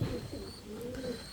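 Breeding pigeon cooing close by, soft low rolling coos repeating through the short moment over faint background noise.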